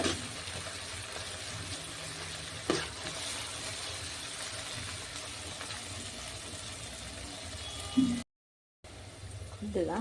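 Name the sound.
onions frying in oil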